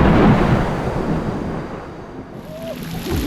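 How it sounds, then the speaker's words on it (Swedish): Heavy rain pours down on a forest campsite during a thunderstorm, a dense, steady hiss mixed with gusty wind noise close to the microphone. "Det är inga små droppar och det är typ åska som hänger i luften här alltså."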